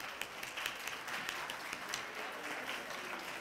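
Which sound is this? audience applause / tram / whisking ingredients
audience applause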